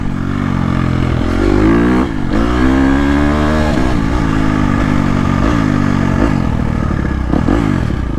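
A 2022.5 KTM 250SXF Factory Edition dirt bike engine revs loudly and continuously close by, its pitch climbing and falling in quick, barky bursts.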